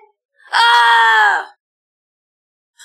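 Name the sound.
woman screaming in horror drama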